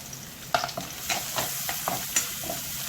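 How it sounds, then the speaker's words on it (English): Onions sauté in hot oil in a kadai, sizzling close and clear with repeated scraping strokes of a spatula over about three seconds, and no voices. "Now the kadai is heated. I am adding the onions and sauteing it."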